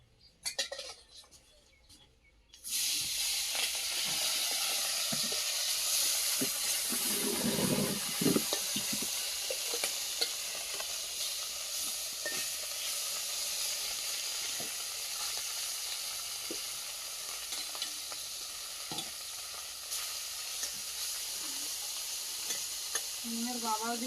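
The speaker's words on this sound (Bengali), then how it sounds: "কড়াই তেল দিয়েছি," Tengra fish frying in oil in a wok, a steady loud sizzle starting after a brief quiet moment and continuing with occasional stirring scrapes, with no talk over it.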